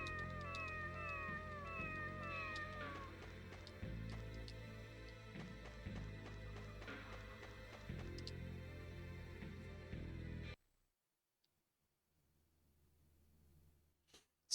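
A cat meows repeatedly in the Tales of the Abyss video game, several clear cries over game background sounds that cut to near silence near the end.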